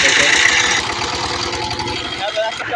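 A power tiller engine runs close by in a steady, rough mechanical chug, loud and even for the whole stretch with no clear start-up moment.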